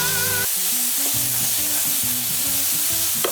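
Rosemary sizzles in a hot frying pan in a steady, continuous crackle, while a low musical tune plays underneath.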